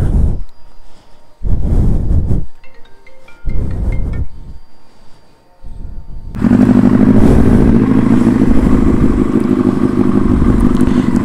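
A Benelli 600i motorcycle is cold started. First come several loud starter-cranking bursts separated by short pauses, then the engine catches and settles into a loud, steady close-up idle rumble.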